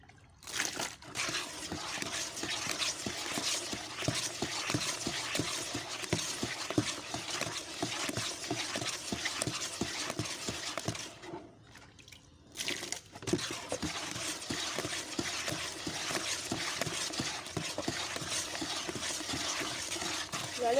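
A homemade liquid soap mixture is stirred after water is added, making a continuous faint sloshing and scraping with a brief pause partway through.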